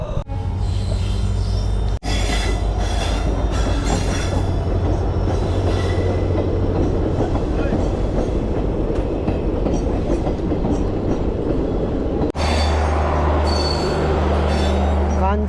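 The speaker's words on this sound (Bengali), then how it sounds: "চলো ফাইনালি দুখানা ট্রেন চলে গেছে" Two trains pass close by at a railway station on a route toward Sealdah and Alipurduar, with a loud, continuous rumble, wheel clatter and squeal, and brief breaks in the din near the start and end.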